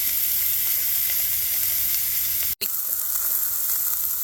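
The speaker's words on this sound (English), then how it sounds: "Got my burger here into the frying pan" A burger sizzles steadily in a frying pan, a loud close hiss of fat that is continuous apart from a split-second cut partway through.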